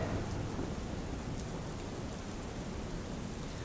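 Heavy rain pours steadily in Palanpur, a dense, continuous hiss of water hitting surfaces with a deep rumbling undertone, unbroken and loud throughout.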